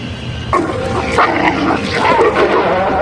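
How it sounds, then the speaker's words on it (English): Several dogs in the 1973 film The Exorcist bark and yip in quick bursts, loud and nearby, with overlapping barks continuing throughout. "More dogs."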